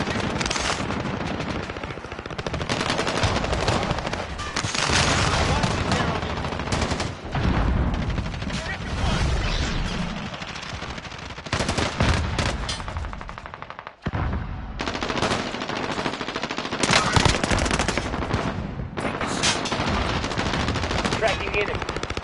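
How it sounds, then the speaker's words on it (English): Dense automatic gunfire and bursts of shooting in a Call of Duty Warzone match, loud and nearly continuous with brief gaps, while voices talk over it. "We're taking fire."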